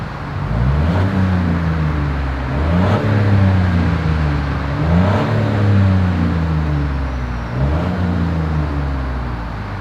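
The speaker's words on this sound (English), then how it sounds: "As always, here is that exhaust clip." A 2021 Chevrolet Trailblazer engine revs up and down repeatedly through a dual exhaust, deep rumbling pitch rising and falling in several surges, close by.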